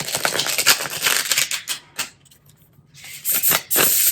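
A tarot card deck being shuffled up close, dense papery riffling and flicking in two bursts separated by a short near-silent pause, with no voices.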